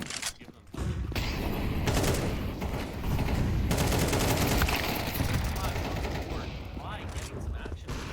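Mac 10 gunfire rattles in rapid automatic bursts during a Counter-Strike match, loud and dense across most of the stretch with short breaks, while voices talk underneath.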